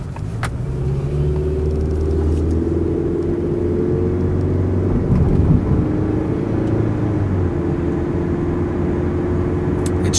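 Interior cabin sound of a 2003 Toyota Camry on the road: a steady low engine and road rumble with faint tire whir, smooth and even throughout, no talk.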